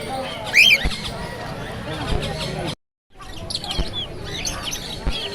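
Caged pet birds chirp and tweet at a bustling bird market, with sharp high calls near the start and scattered bursts later, mixed under people talking and a brief gap of silence midway.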